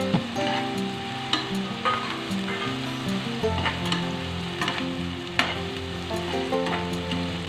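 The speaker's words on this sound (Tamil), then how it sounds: "வெங்காயம் நல்லா பொன்னிறமாக வரணையும் கொஞ்சம் வதக்கிக்கலாம். கொஞ்சம் நெய் விட்டால் நல்லா வந்து வாசமாக இருக்கும்." Onions sautéing in ghee with cinnamon and cloves, a continuous close sizzle with occasional sharp crackles and pops, running steadily over a soft tonal background with no one speaking.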